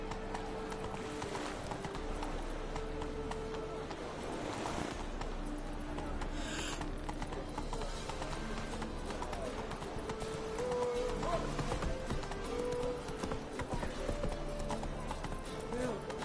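Horse hooves clip-clop at a steady gallop in The Witcher 3, a continuous rhythmic beat running throughout with game music and occasional voices layered over it.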